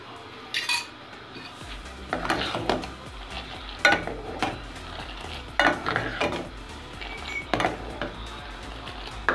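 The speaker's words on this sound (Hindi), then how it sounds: "इसको 2-3 दफ़ा मैं ऐसे ही फेंटूंगी।" Pink tea with milk is whisked in a metal pot, giving a series of sharp clinks and scraping strokes roughly every second or two, close and fairly loud, with no speech.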